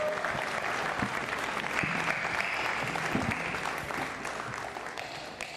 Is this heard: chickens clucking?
no